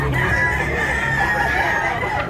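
A young fighting rooster, a stag, crows loudly and close, one long drawn-out call held for about two seconds.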